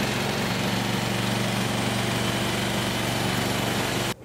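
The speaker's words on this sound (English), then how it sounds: "This is a bandsaw" A Range Road RR5029 sawmill bandsaw with a 1¼-inch Lennox blade runs with a steady, loud engine drone and mechanical whine that holds evenly throughout, then cuts off abruptly at the very end.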